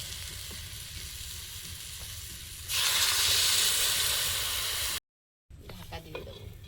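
Water is poured into a hot kadai of potato, bean and tomato curry: a steady sizzle swells into a loud, rushing hiss of steam and boiling, then cuts off briefly before the bubbling resumes.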